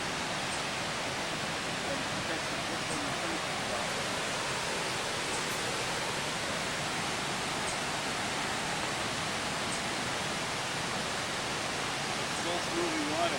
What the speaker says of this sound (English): Slow moving water.